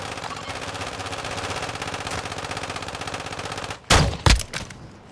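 Sustained automatic gunfire rattles in a Call of Duty DMZ firefight, a dense, steady stream of shots, ending in a few louder, sharper bangs near the end.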